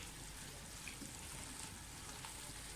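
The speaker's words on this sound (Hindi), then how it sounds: "सब्ज़ी सारी मिक्स हो जाए तो तकरीबन हाफ ग्लास में इसमें पानी और डालूँगी।" Water is poured into a pan of cooking potato and radish-pod vegetables in an aloo mongray curry, a soft, steady faint splashing hiss with no talk.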